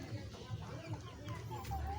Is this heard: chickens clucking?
yes